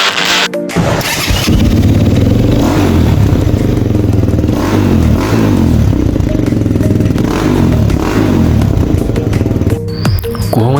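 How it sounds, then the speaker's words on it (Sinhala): A TXM 250cc supermoto motorcycle engine revs loudly and up close, rising and falling through repeated throttle blips in a steady rhythm for about ten seconds after a brief start. "කොහොමද බයික් එකේ සද්දේ වගේම තමයි මේකේ පවර් එකත්."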